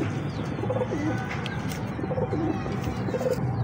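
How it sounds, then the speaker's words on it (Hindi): Pigeons coo repeatedly in soft, throaty phrases over a busy background of other birds and ambient noise, the calls close and recurring in short bursts. "बड़ा यूनिक और एंटीक किस्म का कबूतर है"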